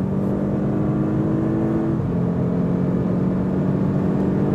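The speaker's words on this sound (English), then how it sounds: "this 140 to 180 again, just to know how impressive the acceleration still is in the higher speed regions" An Audi S8 Plus V8 with 605 hp accelerates hard from 140 to 180 km/h, its steady engine drone rising in pitch, dipping at a gear change midway, then climbing again under constant road and wind noise.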